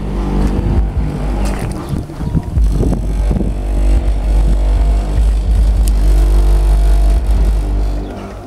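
Three 12-inch Kenwood subwoofers pound out heavy, continuous bass inside a shed. The low rumble is loud and close, with buzzing, rattling texture throughout.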